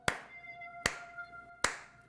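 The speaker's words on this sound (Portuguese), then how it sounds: "E bateu palmas 3 vezes." Three sharp hand claps, evenly spaced about three-quarters of a second apart, close and crisp with brief ringing decay, no talking.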